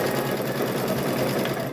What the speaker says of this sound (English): we're going to sew these ones together